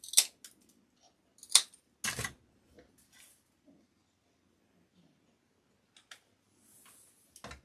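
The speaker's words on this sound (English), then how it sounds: "cut off the excess." Scissors snip off excess material while making a candy cane gnome candle holder: a few sharp, close snips in quick clusters early on, then long quiet gaps with only faint handling noises.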